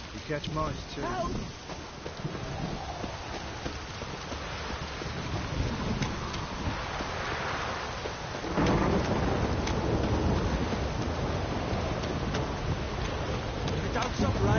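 Video game rain pouring steadily with rumbling thunder that swells in the middle and stays loud, mixed with game sounds.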